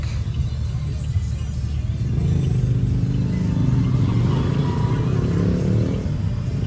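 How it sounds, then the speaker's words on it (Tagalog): Heavy road traffic of cars and motorcycles rumbles close by in a steady low drone, with engines swelling louder partway through. "Ito na kami, oh, grabe traffic."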